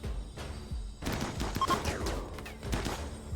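Rapid gunfire from shooter units in a sci-fi video game, bursts of overlapping shots crackling over a steady background hum, dense and continuous for a few seconds.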